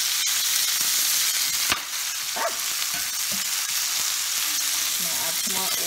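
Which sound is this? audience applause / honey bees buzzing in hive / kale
kale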